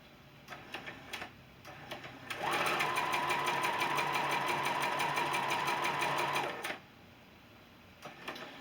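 A sewing machine stitching a quilt block, starting with a few clicks and short bursts, then running steadily for about four seconds with a whirring mechanical hum before stopping, fairly close and moderately quiet.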